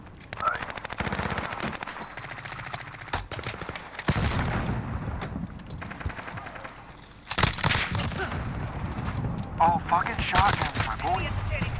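Uzi submachine gun in Call of Duty Modern Warfare (2019), firing in rapid sharp full-auto bursts separated by brief pauses, loud and close, with a player talking between volleys.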